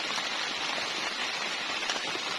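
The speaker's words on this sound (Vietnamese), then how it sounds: "giờ trời mưa" Steady rain pours on a tent pitched in a garden at night, a dense, even hiss of drops drumming on the fabric with no pauses.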